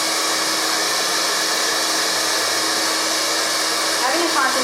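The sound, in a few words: hair dryer with concentrator nozzle blow drying hair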